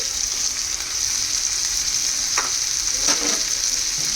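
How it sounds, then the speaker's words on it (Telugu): Chopped vegetables and carrot frying in oil for millet ponganalu, a steady bright sizzle with a couple of brief stirring scrapes near the end, close and unbroken. "సో ఇవన్నీ ఫ్రై అవ్వాలి."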